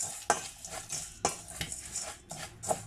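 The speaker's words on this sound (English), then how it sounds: "You mix it all together" A spoon mixes a powdered cinnamon tea mix in a container, making a rhythmic run of scraping, clinking strokes, about seven distinct hits, close and fairly quiet with no talk.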